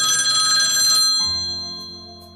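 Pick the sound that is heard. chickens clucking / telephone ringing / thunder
telephone ringing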